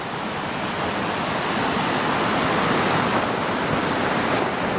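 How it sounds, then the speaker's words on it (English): Steady broadband rush of flowing water near a lakeside campsite in the Boundary Waters canoe country, constant and moderately loud with no voices. "I think you can hear that water"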